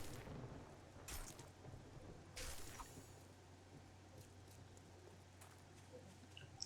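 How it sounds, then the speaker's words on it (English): Thunderstorm ambience in the Blocks vs. Zombies 7 Days video game: steady rain hiss under a low hum, with several sharp thunder cracks and rumbles. "The thunderstorm sounds got a lot better."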